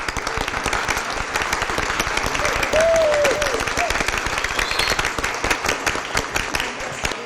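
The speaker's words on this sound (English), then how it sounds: "I'd like to offer a round of applause for all of the graduates of Cleveland High School." Applause fills a Board of Aldermen meeting for Cleveland High School graduates: dense, steady clapping from a room crowd for about seven seconds, with voices and a brief whistle-like tone mixed in.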